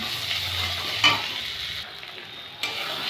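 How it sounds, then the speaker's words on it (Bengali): Steady oil sizzle of ginger and slit green chillies frying in a pan, with a brief metallic scrape of stirring partway through; close and continuous, no voices. "আদাটা হাত ভাজা হয়েছে এবার এর মধ্যে চিরা লঙ্কাগুলো দিয়ে দেবো"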